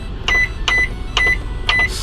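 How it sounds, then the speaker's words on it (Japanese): A microwave oven in a camper van, run from an inverter, gives four short, evenly spaced electronic beeps over a low steady hum. No one speaks. "インバータースイッチを押して、これで電子レンジ使います。"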